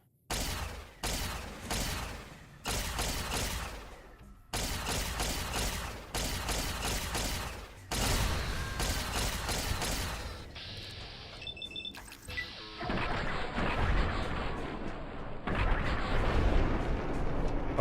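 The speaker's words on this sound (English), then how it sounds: "Actually, I'm gonna do it with the laser pistol." Repeated bursts of laser pistol fire in a video game, loud rapid volleys separated by short gaps, followed by a noisier stretch of mixed game effects and mechanical clatter near the end.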